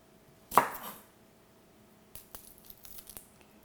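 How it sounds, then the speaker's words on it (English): A knife mincing shallots on a cutting board gives one crisp chop followed by a short scatter of lighter, quieter taps, close and alone. "Now I'll mince some shallots as well."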